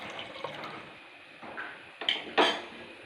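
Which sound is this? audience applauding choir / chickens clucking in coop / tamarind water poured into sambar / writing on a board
tamarind water poured into sambar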